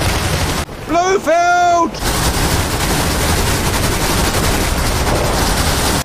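Gunfire during a boat attack on an oil rig in the 1971 James Bond film Diamonds Are Forever, a dense, continuous rattle of shots and blasts under loud action noise, with a voice shouting partway through.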